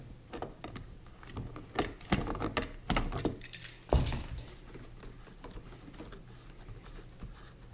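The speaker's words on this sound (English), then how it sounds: "we're going to get a big wrench and take off the gland nut" A big wrench working a gland nut loose on a fitting, giving a close run of sharp ratcheting clicks and metallic knocks that come in irregular bursts and then thin out to quieter handling noise.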